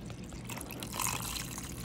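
Spider-verse G-Fuel energy drink is poured into a cup, giving a soft, continuous splashing trickle that stays steady for the whole brief moment, with no voices.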